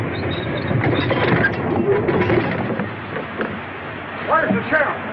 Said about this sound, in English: Don't that train make enough noise?